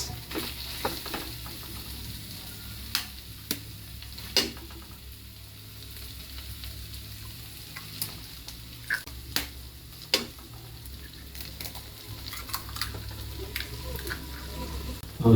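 San Marino corned tuna sisig with egg frying in a pan: a low steady sizzle with scattered sharp clicks and scrapes of stirring.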